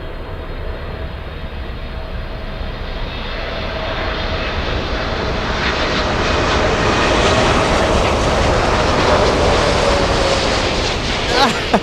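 A Lufthansa airliner on flight LH462 lands at Miami in a crosswind, its jet engine roar swelling steadily as it passes close overhead and then stays loud and sustained, with faint voices underneath.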